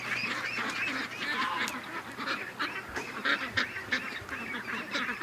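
A flock of ducks quacks and honks continuously, many overlapping calls close by forming a dense chattering din with no talking.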